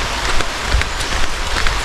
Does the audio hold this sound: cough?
no